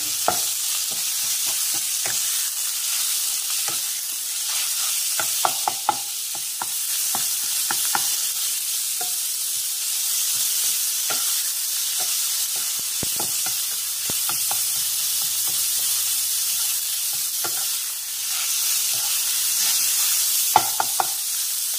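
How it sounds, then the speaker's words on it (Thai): Pork stir-fries in a pan for spaghetti drunken noodles, a bright continuous hiss of hot oil running throughout, with frequent light scrapes and taps of a spatula close at hand. "ใส่หมูครับ ผัดหมูต่อ"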